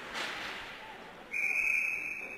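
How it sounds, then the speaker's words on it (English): Referee's whistle at a junior ice hockey game, one sharp sustained blast that starts partway through and holds to the end over faint arena ambience. "The referee's going to blow his whistle"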